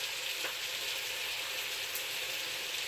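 Tofu and beef stir fry in a pan with an ill-fitting cover: a dense, even sizzle held steady throughout, close and continuous with no talking.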